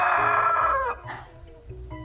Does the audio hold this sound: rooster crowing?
yes